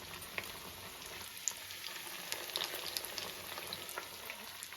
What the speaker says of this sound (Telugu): కొన్ని వేసుకొని మెల్లగా కాల్చుకోవాలి.